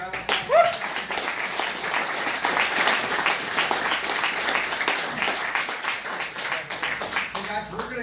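Audience applause and clapping for a performer named Danny at a live show, dense and steady for about eight seconds, with chatter and voices mixed into the crowd noise.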